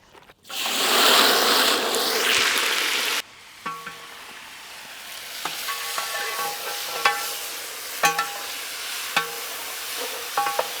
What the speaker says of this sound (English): Now we will fry chicken.